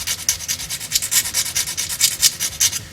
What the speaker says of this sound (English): With a file you can accelerate the process of the sanding time